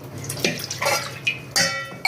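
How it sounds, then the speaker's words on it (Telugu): A glass of water splashing and pouring into a metal pot in several short bursts, with clinks of the vessel between pours. "ఇప్పుడు నేను నీళ్ళు ఎసరు పెడతా ఒక గ్లాసు నీళ్ళు"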